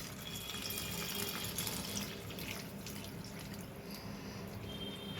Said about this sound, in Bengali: হাফ লিটার দুধ আমি এতে ঢেলে দিলাম।